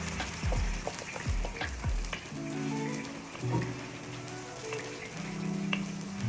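Onions frying in a pot while cooking beef rendang for four to five kilos of meat, giving a steady, close sizzle with scattered stirring scrapes and clinks throughout, no talking.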